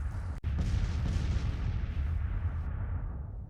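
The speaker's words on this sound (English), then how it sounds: "I'll be back when my artillery does its work" Artillery fire in Grand Tactician: The Civil War, with one sharp cannon report near the start followed by a long, loud rumbling roll of distant bombardment that slowly fades.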